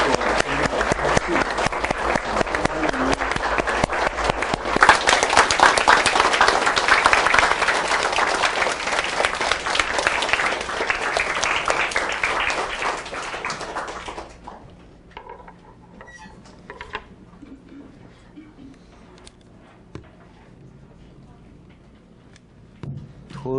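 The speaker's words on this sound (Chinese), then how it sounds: "那我们掌声欢迎我们的海云寂梦法师为我们做分享开示。" A loud, sustained burst of applause from an audience welcoming a Dharma master to give a talk at a Buddhist temple, with dense clapping that fades out after about fourteen seconds into quieter room sounds.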